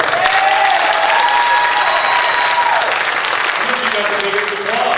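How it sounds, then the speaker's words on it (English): Sustained audience applause fills the room at a steady, dense level for the full stretch, with faint voices mixed into the clapping. "You got the biggest applause."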